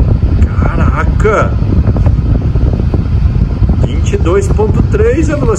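Strong rushing airflow from a Ventisol Equation electric fan running at high speed, a loud continuous roar close to the microphone, with people talking over it.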